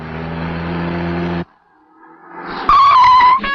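A car engine runs steadily, cuts out, then tires screech sharply as the car brakes hard to a stop, loud and close.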